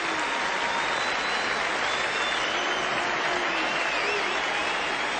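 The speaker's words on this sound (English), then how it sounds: "I hope the Pakistan player who makes 100 gets more applause from the Australian players than Taylor is getting from the Pakistan players" Crowd at a 1990 Australia versus Pakistan Test cricket match applauding a century, broad steady clapping and murmur from a large distant stadium audience, continuous throughout with no clear speech.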